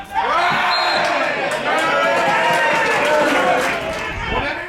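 Football crowd near the end of a New Milton Town versus Bemerton Heath Harlequins match, a loud, continuous roar of many voices with shouts rising and falling, filling the whole clip.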